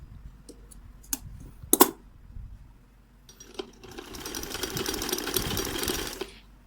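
Sewing machine stitching a small girl's summer frock: a few separate clicks and clacks of handling at first, then a steady fast whirring run of stitching for about three seconds before it stops.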